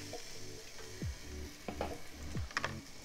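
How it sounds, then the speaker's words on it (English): Peppers sizzling alongside sausages on a Ninja Foodi grill, a soft close crackle under repeated rustling and shifting sounds as pieces are moved around, no speech. "We're gonna throw our peppers just right in the middle."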